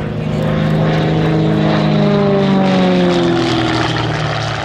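A 315-horsepower aerobatic propeller plane performs rolls and tail slides at an airshow, its engine droning loudly and steadily throughout with shifting propeller tones and no voices.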